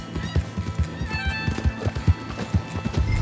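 A Missouri Foxtrotter horse in Red Dead Redemption 2 trots with quick, rhythmic hoof clops close by, its whinny carrying above the steady beat of the hooves.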